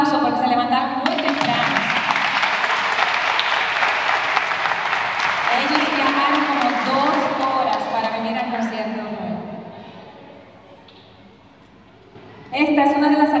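Audience applause at a children's educational concert in Santo Domingo, a dense crowd clapping loudly for several seconds before fading away, then a voice cuts in at the end.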